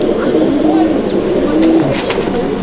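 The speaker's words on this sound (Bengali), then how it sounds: "খুব ভালো রেজাল্টের পায়রা" Racing pigeons coo in a loft, the low throaty calls repeating close by and loud among the birds' rustling.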